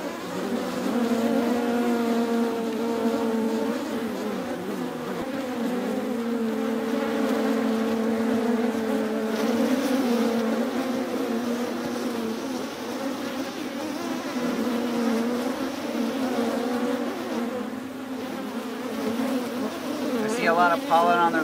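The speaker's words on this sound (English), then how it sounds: "Lots of bees." Honey bees from a horizontal hive split swarm in a steady, dense buzz that stays loud and close throughout, a continuous droning hum with no voices.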